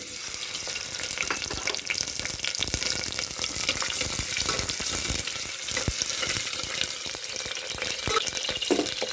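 Onions frying in hot oil while a Karnataka-style jackfruit sambar is cooked, giving a steady, close sizzle with crackling bursts and occasional stirring scrapes throughout.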